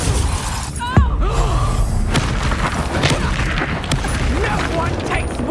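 Confringo fire spell blast in Hogwarts Legacy, a sharp loud burst with a shattering crack followed by crackling debris, set amid a dense combat soundscape with other impacts and muffled voices.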